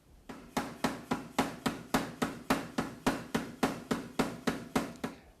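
Power hammer forging hot steel to draw out tong reins, driving and flattening the metal in a steady rapid train of about eighteen sharp, loud blows, close and evenly spaced with no talking.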